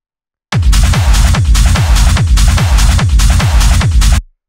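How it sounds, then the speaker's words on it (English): Techno drum loop from a rave sample pack: loud, punchy kicks on an even four-to-the-floor pulse, about two per second, layered with dense hissy percussion, playing alone and cutting off abruptly. "Then we got the rest of the drums, which sound like this."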